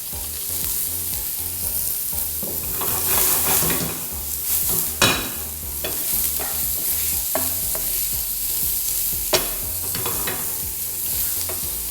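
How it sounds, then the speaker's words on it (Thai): Steady sizzling of mushrooms stir-frying in olive oil in a hot pan, a spatula scraping and stirring, with a few sharper clinks of utensil against metal. "ผมจะผัดให้เห็ดเนี่ยมัน เกรียมๆหน่อยนะครับ"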